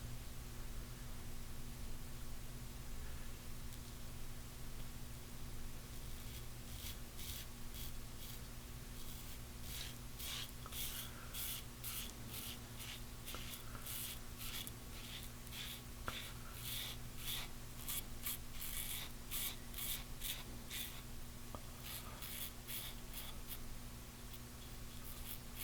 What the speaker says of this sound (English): With your eyes closed, you really can get a lot more feedback from the razor, the sound of it.